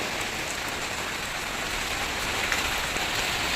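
Steady rain falls outdoors, a dense, even hiss of drops pattering on surfaces that holds at a constant level throughout, with no voices.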